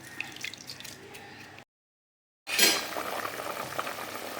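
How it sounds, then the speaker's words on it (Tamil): Salted water for rice bubbles and simmers at a rolling boil nearby, with a brief moment of silence in the middle before the bubbling resumes. "தண்ணி பார்த்தீங்கன்னா நல்லா கொதி வந்துட்டு"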